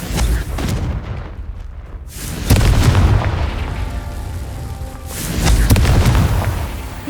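Confringo explosive spell cast in Hogwarts Legacy: a deep, loud boom followed by rumbling blasts, with a second heavy explosion a few seconds later, close and dominant.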